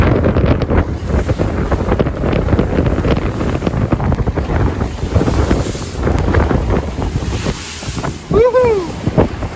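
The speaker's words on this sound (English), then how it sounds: "Wind just keeps picking up" Strong wind at sea aboard a sailboat, with a constant heavy rush of gusts and water battering the microphone, loud and unbroken, and a brief squeaky whistle near the end.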